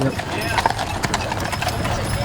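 Wagon train horses on the Pipestone Wagon Train, hooves clip-clopping in a steady rhythm close by, with a faint whinny and talking over the hoofbeats.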